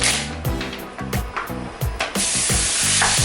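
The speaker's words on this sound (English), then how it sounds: "Once the pan is hot and ready, we can drop the minced beef." Minced beef dropped into a hot oiled pan, a loud close sizzle that keeps sputtering in bursts as the meat is stirred and settles, alone without talk.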